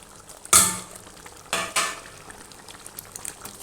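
A spoon stirs a brinjal and black chickpea gravy in a pot, with a sharp scrape and clank, then two more knocks a second later, over a soft bubbling background.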